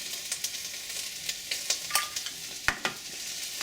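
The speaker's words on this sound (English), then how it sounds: "our onions are cooking" Onions fry in a pan for a lamb and Guinness stew, a steady close sizzle with scattered stirring scrapes and taps.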